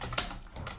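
A few quick keystrokes on a computer keyboard in a short, faint burst of clicks, close and without talk.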